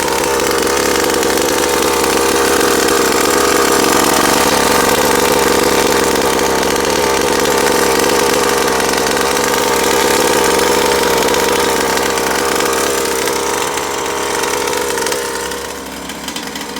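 A Rovan Baja 5T gas RC car engine runs continuously on its first ever start, a loud, close, buzzing two-stroke drone that holds steady throughout and eases off slightly near the end.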